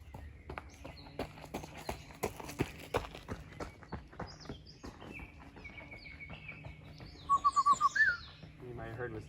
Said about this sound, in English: You might have heard was the Baltimore oriole, bright orange bird that will be making a nest like a basket that hangs from a tree.